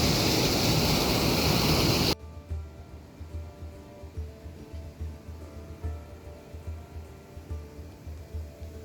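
A waterfall in Idukki district roars as a broad, loud rush for about two seconds, then cuts to a quieter scene with faint rushing water and a low rhythmic thumping.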